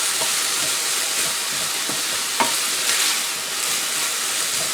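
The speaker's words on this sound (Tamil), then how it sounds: "இதை கொஞ்சம் வதங்க விடுவோம்." Vegetables such as cabbage and beans sautéing in a hot pan for Asian-style pesto pasta, a steady close sizzle with occasional stirring clicks and scrapes, no talking.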